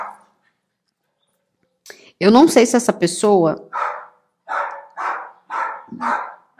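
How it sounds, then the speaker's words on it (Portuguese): A neighbour's dog barks repeatedly nearby in a series of short, evenly spaced yaps, following a brief stretch of someone talking. "esse cachorro tá me dando nervoso. É do vizinho. Ele tá latindo aqui porque tá ouvindo minha voz."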